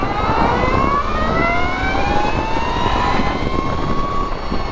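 A 2022 Energica Ribelle RS electric motorcycle pulls away under throttle, its motor whine climbing steadily in pitch over a constant rushing wind and road noise.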